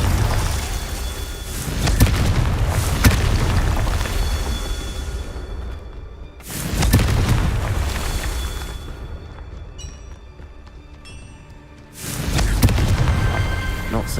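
Confringo blasting spell from Hogwarts Legacy: three deep, roaring explosive booms with long rumbling tails, spaced several seconds apart, loud and close over continuous game ambience.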